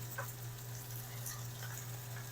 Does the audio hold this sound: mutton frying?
yes